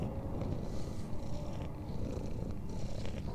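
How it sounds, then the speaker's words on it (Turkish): A house cat purrs close by, a low continuous rumble that stays steady throughout without any talking. "Kedi mırlıyor."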